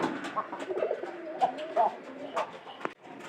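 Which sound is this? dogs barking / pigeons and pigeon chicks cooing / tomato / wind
pigeons and pigeon chicks cooing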